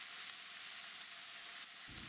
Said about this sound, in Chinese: 先把蒜煸香，然后再放入樱桃番茄